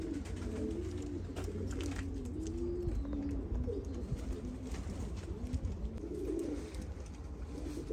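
Pigeons coo steadily in a loft among young birds and breeding pairs, overlapping rolling coos close by over a constant low background hum, with no talk.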